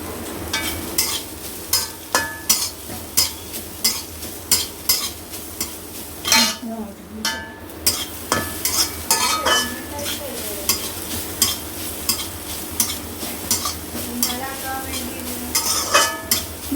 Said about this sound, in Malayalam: നെയ്യിൽ തേങ്ങ ഇട്ട് വറുക്കും. ലേശം നല്ലോണം വറക്കണം.